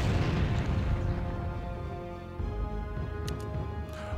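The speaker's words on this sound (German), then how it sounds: "Was ist da eben explodiert?" Explosion in the strategy game Empire Earth, a deep, heavy rumbling boom that rolls on and slowly fades over several seconds, heard alone and fairly quiet.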